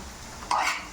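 Small cut potato pieces frying in a pan, a steady low sizzle broken by a brief louder burst of spattering and stirring midway.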